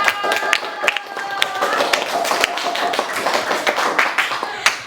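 Scattered applause from a small classroom group after a presentation, uneven claps close by, with faint voices murmuring underneath.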